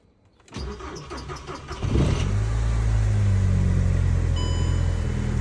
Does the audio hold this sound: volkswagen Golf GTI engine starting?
yes